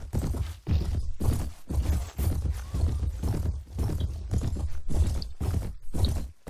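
Rhythmic clip-clop of galloping horses carrying horse archers in the Mount & Blade Warband Viking Conquest game, regular hoofbeat bursts close and loud with no talking.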